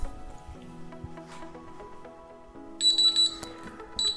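A kitchen timer goes off after a 10-minute countdown, giving two bursts of high electronic beeping over a low background hum.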